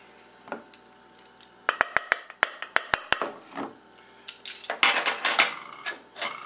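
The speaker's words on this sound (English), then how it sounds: "I'm going to do a little bit more just because I should have chopped these a little finer" A knife chops ingredients for feta cheese fold-overs on a cutting board, with sharp, fast, near taps that come in irregular bursts.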